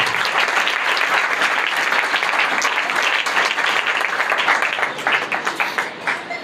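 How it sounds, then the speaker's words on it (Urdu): A church congregation at a Palm Sunday service applauds loudly and steadily for several seconds, with dense clapping that thins into scattered claps near the end. "زوردار تالیاں ہم اس کو دے دیں"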